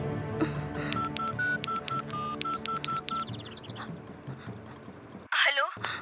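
A telephone being dialed, a run of short beeping key tones in an even rhythm over a room hum, followed by a brief burst of noise at the end.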